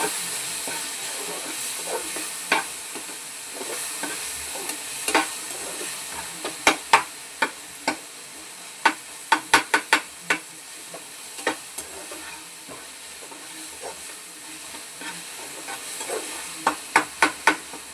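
Tomato bajji curry being stirred in a pan after simmering under a lid, with a steady sizzle and repeated sharp spoon scrapes and clinks against the pan, close and clear, no talking.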